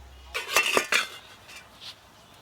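A metal lid is lifted off a cake pot, producing a couple of close metallic clanks and scrapes, then fainter clinks trailing off.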